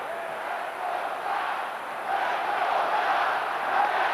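White Sox fans at a crosstown baseball game against the Cubs make a steady, dense roar of crowd noise that swells slightly toward the end, like a sustained stadium chant from many voices at a distance.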